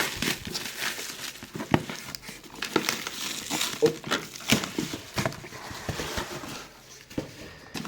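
A heavily taped cardboard package being opened, with loud crinkling, crackling and tearing of tape and packing material in irregular bursts close by, plus brief handling noises.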